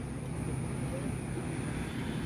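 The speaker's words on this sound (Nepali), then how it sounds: "यो चाहिँ हाम्रो ड्रोन हो है" A flying drone gives off a steady, fairly loud broadband whir with a thin high whine running unbroken through the clip.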